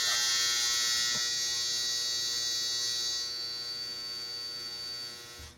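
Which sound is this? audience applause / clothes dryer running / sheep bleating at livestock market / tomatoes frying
clothes dryer running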